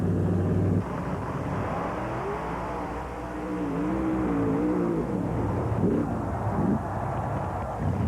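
Monster pickup trucks race through mud at a 1991 NMRA event in Pomona, their engines roaring continuously with rising and falling revs, loud and steady and somewhat distant.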